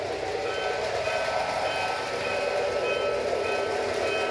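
A model train on a wall-mounted PLC-controlled layout holds a steady electronic horn or signal tone over a faint running hum, continuous and even at close range with no talking.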